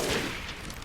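A burst of gunfire in Resident Evil Village, loud and close, several shots blurring together into a short rattling fusillade.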